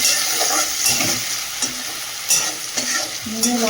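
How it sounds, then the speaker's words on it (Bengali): Chicken pieces stirred through a spice mixture in a hot pan: a spoon scrapes and turns the food every second or so over a soft, continuous sizzle, close up and without speech. "এই যে মশলাটা একটু ঘাটাঘাটি করতে হবে"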